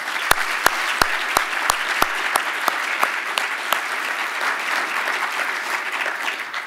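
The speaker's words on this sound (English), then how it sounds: "If you would please acknowledge them with applause." An audience at a university economics memorial lecture breaks into steady applause, a thick, even wash of many clapping hands. A few sharper, separate claps stand out near the start, and there is no talk.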